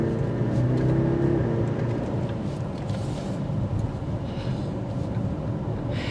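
A 2022 BMW X6 M50i engine accelerates in Eco Pro mode with a muted, steady rising hum under road and wind noise, fairly subdued rather than throaty.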